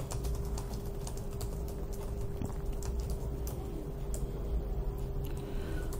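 Quiet, rapid clicking of computer keys as a command is typed, a steady run of light taps close by over faint room hum, with no talking.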